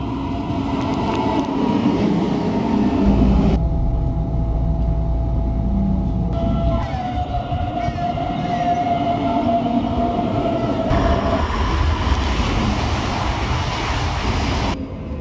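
A München-Nürnberg-Express regional train in Bavaria passes close by, its loud rolling rumble and wheel noise steady for the whole stretch, with a rising tone in the middle and no talking.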